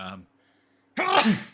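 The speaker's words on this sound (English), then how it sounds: "Oh, I gotta sneeze again." A single sharp sneeze bursts out after a brief pause, loud and close, preceded by a short bit of voice.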